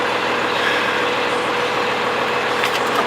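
A vehicle engine with a 3+3 drivetrain problem drones steadily in fourth gear at about 60, a loud, even cabin roar with road and wind noise and no talk.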